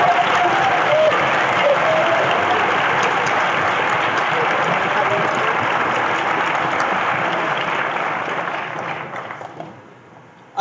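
Sustained crowd applause at a university debating championship, a dense wash of clapping that holds steady for several seconds before gradually thinning and dying away near the end.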